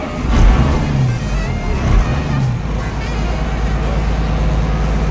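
A bus pulling up at a stop on the road from Rishikesh toward Kedarnath, a loud low engine rumble rising and easing as it slows, with traffic noise around and brief voices in the background.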